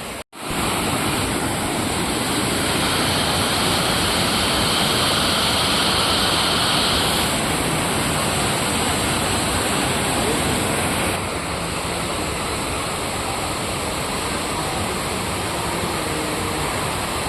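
Waterfall at Tungareshwar temple, a steady broadband roar of falling water that fills the whole clip, loud and close with no pauses, dropping slightly in level partway through.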